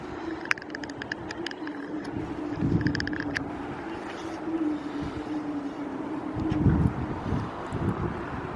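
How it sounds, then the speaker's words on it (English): Breezy wind blows outdoors on the Newport, Rhode Island waterfront, a steady rushing buffet on the microphone with low rumbling gusts swelling and fading, plus a few faint clicks. "it's breezy"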